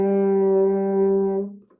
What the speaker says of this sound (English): we get what's on the French horn, a D. It sounds like this.